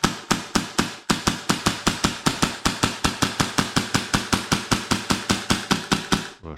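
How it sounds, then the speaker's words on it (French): Airsoft RIC rifle firing on gas with non-tracer BBs, a long steady string of sharp, evenly spaced shots at a fast rhythm, close and loud, ending as the magazine runs empty. "Voilà, changement de bruit, le chargeur est vide."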